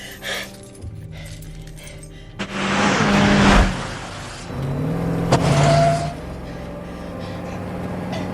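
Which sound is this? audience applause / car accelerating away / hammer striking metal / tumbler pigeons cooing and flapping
car accelerating away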